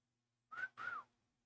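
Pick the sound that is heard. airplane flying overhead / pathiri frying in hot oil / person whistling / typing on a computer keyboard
person whistling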